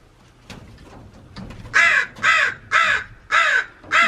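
Crows caw loudly and close by in a regular series of about five harsh calls, each followed by a short pause, against a quiet background.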